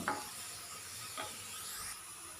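Golden-brown fried shallot tempering poured into a Kerala coconut fish curry, giving a soft, steady sizzle and hiss with a brief splash at the start and another small flare midway. The sound is faint and there is no speech.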